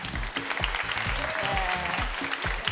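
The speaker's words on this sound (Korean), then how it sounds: "박수 부탁드릴게요." A crowd applauds continuously at a 2014 FIFA video game championship event as a finalist is introduced for an interview, with steady dense clapping and some faint background tones throughout.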